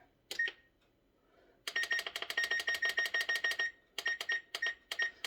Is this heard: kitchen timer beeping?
yes